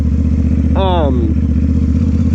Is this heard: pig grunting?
no